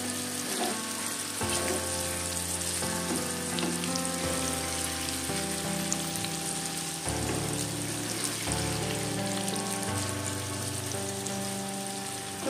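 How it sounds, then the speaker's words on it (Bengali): Sliced figs fry in hot oil with salt and turmeric, giving a loud, steady sizzle close up, with stirring noises mixed in and a constant tonal hum underneath. "ভালো করে ভেজে নিয়ে ফিরে আসছি"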